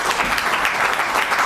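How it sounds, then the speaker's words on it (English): A round of applause rises from the audience at a high schools capital markets quiz competition in Zimbabwe, welcoming guests from Central and West Africa, a dense, steady clapping that holds evenly for the whole short stretch. "Let's give them a round of applause."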